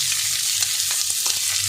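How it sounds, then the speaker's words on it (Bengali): Chopped onion goes into a pan of frying chillies, raising a steady, close hiss of hot oil with a few soft scraping stirs, and no voices. "এবার আমি যে পেঁয়াজ কুচিয়ে রেখেছিলাম তার হাফ দিয়ে দেবো এখানে"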